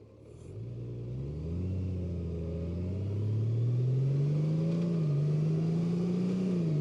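A brand-new 2025 Honda Goldwing motorcycle pulls away smoothly, its engine hum rising steadily in pitch as it accelerates, heard close with a low rumble and no talking.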